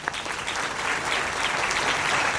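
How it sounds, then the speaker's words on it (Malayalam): An audience claps warmly and continuously in a lecture hall, a dense, even burst of applause from many hands, fairly loud and close. "നന്നായിട്ടൊന്ന് കൈയടിച്ചേ."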